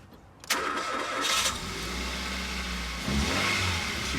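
A Hyundai i10 engine cranks and catches after a short silence, then settles into a steady close idle with a brief rev near the end.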